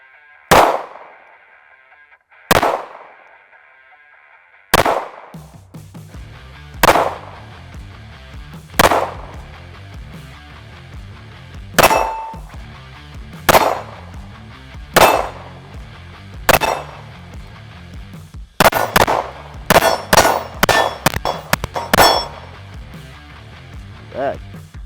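A TWC9 pistol fired repeatedly at close range, with loud sharp cracks spaced a few seconds apart at first and then a quicker string of shots near the end, each one ringing briefly.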